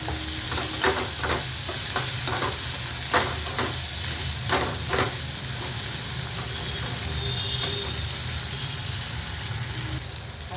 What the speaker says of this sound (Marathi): आता आपण लगेच टोमॅटो टाकूया.